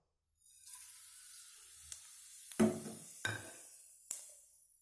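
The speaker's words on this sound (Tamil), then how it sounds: "இது எல்லாத்தையும் எண்ணெய் சூடானதுக்கப்புறம் இதில் போட்டு தாளிக்க போகிறோம்" Whole spices, cloves, cinnamon and kalpasi, dropped into hot oil for a country chicken curry tempering: a soft continuous sizzle with several sharp crackles and clinks from the pan, fairly faint and close, with no talk.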